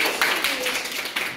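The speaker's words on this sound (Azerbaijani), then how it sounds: "Alqışlar" Players in an Azerbaijani word-chain game break into a short round of applause: soft, smeared bursts of clapping rise and fall over about a second, close by.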